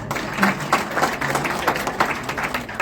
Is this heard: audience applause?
yes